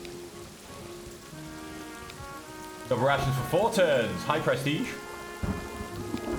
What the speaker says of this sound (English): now, funny enough, it's raining.